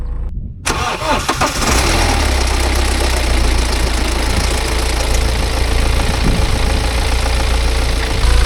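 A BMW E91 320d's N47 diesel engine turns over and settles into a low, rumbling idle that holds steady and close throughout, with a faint rattly clatter on top.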